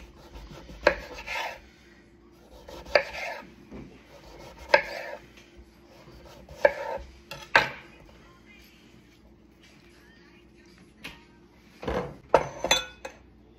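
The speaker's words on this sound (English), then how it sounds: "We're gonna flip them back over so they're stable, and then we're gonna cut them into slices" A knife slices through firm acorn squash on a cutting board, giving several separate crisp chopping strokes spaced a second or two apart, then a quick cluster of cuts near the end, close and fairly clear.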